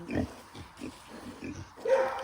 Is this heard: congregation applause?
no